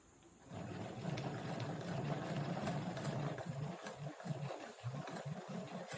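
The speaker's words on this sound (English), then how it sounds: "you're going to crank the handle clockwise at a steady pace" A yarn ball winder has its handle cranked at a steady pace, a close whirring mechanical drone that starts abruptly and continues with a faint rhythmic pulsing, no talk over it.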